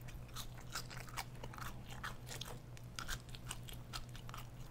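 Crinkle cut fries are bitten and chewed close to the mic, with repeated crisp crunches in an irregular rhythm over a low steady hum.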